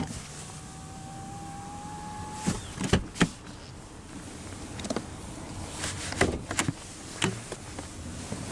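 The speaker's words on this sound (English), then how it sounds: "But now we'll roll down the driver's window" The driver's power window of a 2019 Chrysler 300 Touring-L sedan rolls down in a faint whirring motor hum lasting a couple of seconds, followed by soft clunks and interior thumps, heard close with no speech.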